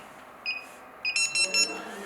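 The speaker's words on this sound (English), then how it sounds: "The pager still beeps." Wireless restaurant queue pager from an AGJ paging system beeping: two short high tones, then a quick rapid series of four or five bright beeps, fairly faint over low background hiss.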